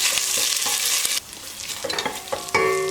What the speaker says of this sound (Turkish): Ve salçamı iyice kavuracağım